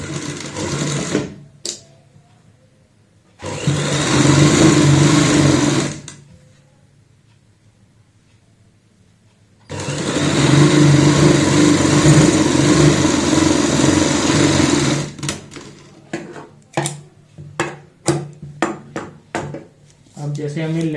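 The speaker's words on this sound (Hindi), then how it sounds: "अब हमें यहाँ पे साइड की सिलाई लगानी होगी इस तरीके से" A sewing machine runs the side seam of a frock for a five-year-old in two long, loud, close bursts of rapid stitching, with quiet gaps, then a string of short clicks and taps.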